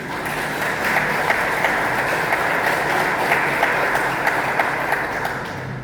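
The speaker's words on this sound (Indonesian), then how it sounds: "Tepuk tangan untuk semua." Church audience applauding at an evening Christmas youth gathering in Batam, a steady dense wash of clapping that holds at an even, fairly loud level throughout.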